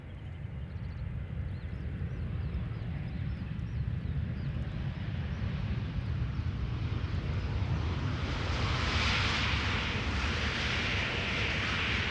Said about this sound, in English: Lufthansa 747 having passed me south of me.